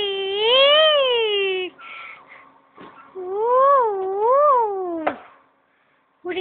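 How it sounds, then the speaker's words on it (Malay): Two cats playing up high call out in long, wavering meows, one drawn-out cry followed by a second rising and falling caterwaul with a short gap between, loud and close, then a quiet pause. "Kucing Tarzan sedang bermain di atas sini"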